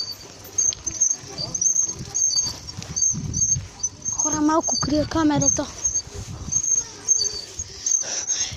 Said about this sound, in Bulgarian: Да, това е куче.